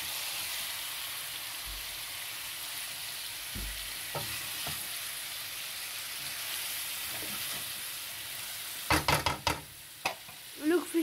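Fish curry masala fries in a pan with a steady, even sizzle while it is stirred. Sharper clatters and knocks of the utensil against the pan come near the end, and nobody speaks.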